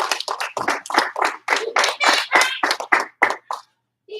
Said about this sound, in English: Give 1 clap, 2 claps.